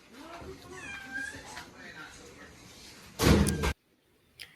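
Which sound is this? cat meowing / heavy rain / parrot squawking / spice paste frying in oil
cat meowing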